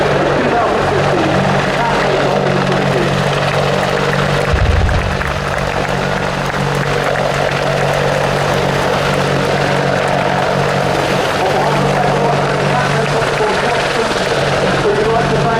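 A helicopter hovers at the RAF Cosford Air Show 2015, its loud steady rotor and engine drone filling the air while an announcer talks over a public address system.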